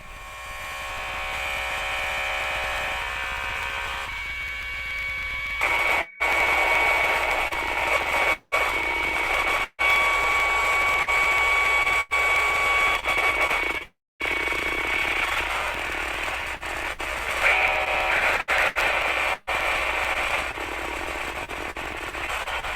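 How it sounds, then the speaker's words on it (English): Noise music is played back as a dense, continuous wash of hiss and buzz with faint steady tones, broken by several abrupt brief dropouts to silence, all fairly loud and without any voices. "a little bit of noise music there"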